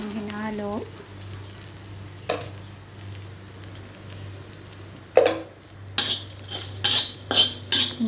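Okra frying in a pan gives a low sizzle under metal utensil scrapes and clanks as it is stirred, with louder bursts of stirring toward the end and a brief voice near the start.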